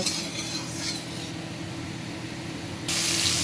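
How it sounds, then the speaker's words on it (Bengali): Katla fish frying in hot oil in a home kitchen for a coriander-leaf fish curry, a steady continuous sizzle with a brighter, louder hiss swelling near the end, no talking. "তেল গরম হয়ে গেছে, আমি এখন মাছটা ভেজে নেব।"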